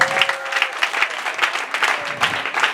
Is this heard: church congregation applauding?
yes